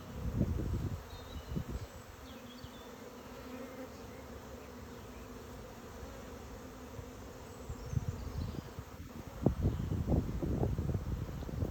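Honey bees buzz steadily throughout an open hive during a colony inspection, with low rumbling handling bumps and a burst of louder activity near the end as frames are shaken.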